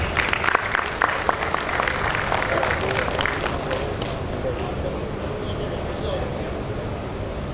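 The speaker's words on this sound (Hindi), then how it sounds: "आपकी पुरजोर तालियों की रौनक में" Applause from a seated audience at a corporate customer recognition ceremony, welcoming a speaker to the stage: dense clapping that starts strong, then thins and softens into a steady wash of hands.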